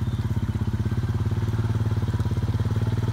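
Four-wheel-drive ATV engine revving steadily as it is ridden through deep, rough terrain, a close, loud, rhythmic chugging throb that holds throughout.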